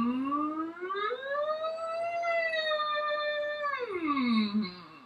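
A single voice glides smoothly from low to high, holds a bright tone, then slides back down, imitating a siren.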